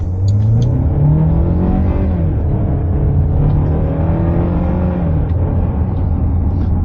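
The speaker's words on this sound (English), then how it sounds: "So what's the Mifa like acceleration wise? How does it accelerate?" A 2023 LDV Mifa van accelerates hard, its engine note climbing in pitch, dropping at a gear change, then climbing again, loud and continuous from inside the cabin with no talking.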